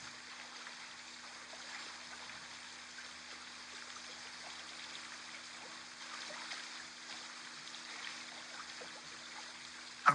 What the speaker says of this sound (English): This little stream is quieter than a waterfall, more human, easier on the ear.